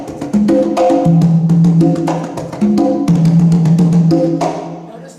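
Hand-played bongos, struck on both the smaller macho and larger hembra heads, ring out in a lively, loud pattern of sharp slaps and resonant pitched tones, two short phrases separated by a brief pause.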